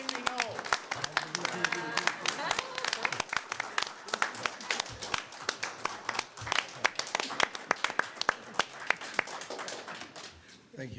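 Attendees at a village board of trustees meeting clap for a departing member, a room of scattered, uneven hand claps with sharp individual smacks, mixed with voices talking through it.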